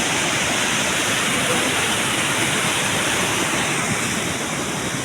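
Bibit Falls pours down in a loud, steady roar of falling water, a dense unbroken rush that holds at the same level throughout with no gaps.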